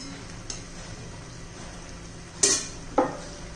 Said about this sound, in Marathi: आता याच्यावर झाकण ठेवून 1-5 मिनिटं शिजू देऊया म्हणजे आपली भाजी तयार होईल.